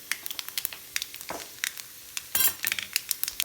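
Grated coconut roasts in a pan over a low flame, with a soft continuous sizzle broken by frequent close scraping stirs of a spatula against the metal, all with no talking.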